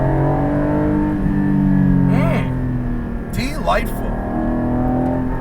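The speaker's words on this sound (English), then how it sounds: "This is a Euro spec car, so it's not quite as loud as the American cars will be." Engine and exhaust of a Euro-spec Porsche Cayman GT4 with PDK automatic and a particulate filter, a steady moderately muted drone with rising and falling pitch as the car accelerates and lifts, while a person speaks briefly over it.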